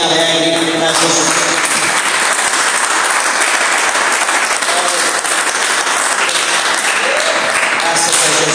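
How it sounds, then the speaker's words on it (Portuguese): A church congregation claps joyfully for Jesus during a service, loud continuous applause from many hands, dense and unbroken, with some brief musical tones near the start. "As palmas bem alegres para Jesus."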